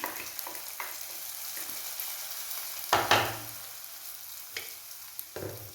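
Hot tempering of fried onion and curry leaves poured into a drumstick and mango curry, giving a steady soft sizzle that flares into a louder crackling burst midway, then settles back to a quiet fry.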